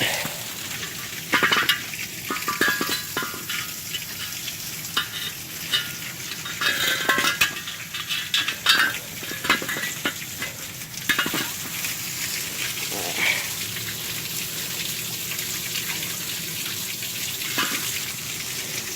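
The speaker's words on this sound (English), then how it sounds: "And you can hear it sizzle as it hits the water." Steady hissing sizzle with intermittent crackles and pops as hot freshly welded metal is cooled in running water, continuous and fairly close throughout.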